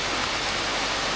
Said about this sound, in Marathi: पावसाचा आवाज आहे का फक्त